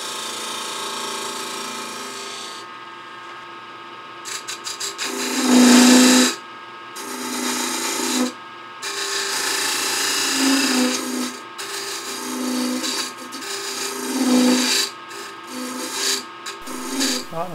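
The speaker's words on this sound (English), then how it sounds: "Coming in here with a 1/4 inch parting tool, followed up with a beading and parting tool, almost 3/8 inch." Parting tool and a beading-and-parting tool cutting into a spinning wooden lidded box on a lathe, giving steady scraping and rasping bursts that rise and fall over a continuous motor hum, with no talk.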